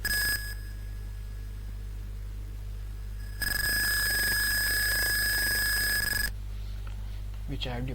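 Piezo buzzer alarm from a DIY laptop temperature alarm circuit, a steady high-pitched electronic tone that sounds softly, then louder for a few seconds, then stops, with a voice starting at the end.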